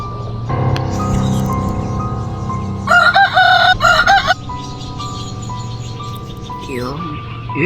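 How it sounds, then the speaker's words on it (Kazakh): A rooster crows loudly once in the middle, amid other sounds and background noise, with talking around it, in a Kazakh village. "Мұндай бір әтештің даусы керек"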